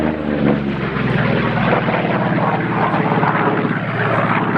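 A Vought Corsair propeller fighter drones past at an air display at Yeovilton, its engine a loud, steady roar that holds evenly throughout with no break.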